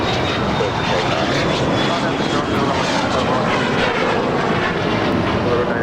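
An airliner roars continuously as it departs LAX runway 25 right, the loud, sustained engine noise close and unbroken throughout, with a faint high whine riding above it.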